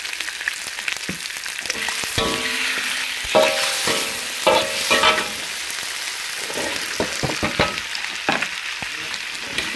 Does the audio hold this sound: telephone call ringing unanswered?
no